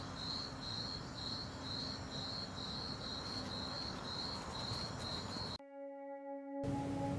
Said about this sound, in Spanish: Saltamontes cabeza de cono.